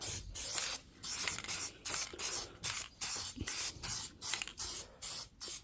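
Rapid bursts of aerosol spray as Plasti Dip coating goes heavily onto an Acura TL, each hiss lasting about half a second and repeating in a steady rhythm with short gaps, close and fairly loud.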